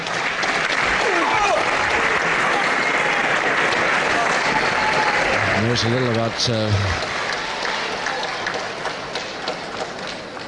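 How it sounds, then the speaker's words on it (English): Crowd applause for boxing winner Cat Weazle after a bout against Bob Kirkwood, steady and full under someone speaking over it, fading slightly toward the end. "I'm sure you give him a very big round of applause."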